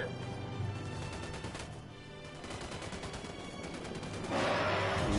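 Rapid automatic gunfire in the Ghost Recon Wildlands video game rattles continuously at close range, steady and dense, rising into a louder burst near the end.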